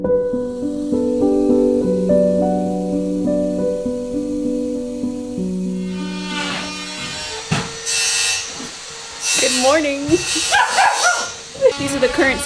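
A dog inside a house barks repeatedly in sharp, loud bursts. Before the barking, music plays, and later people talk nearby.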